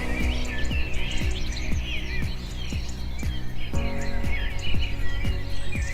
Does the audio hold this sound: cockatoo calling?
yes